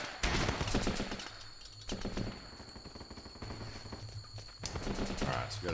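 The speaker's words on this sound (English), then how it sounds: "I'll just sit there peppering you with a really accurate rifle" Rifle gunfire in the game Running with Rifles, clusters of loud cracking shots and rapid bursts with short pauses between, under a voice talking.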